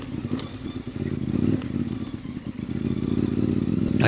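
CFMOTO 450MT adventure motorcycle with an ECU tune, ridden solo over a rocky trail in Barrington Tops, its steady engine drone close and loud with clattering thumps from rocks underneath.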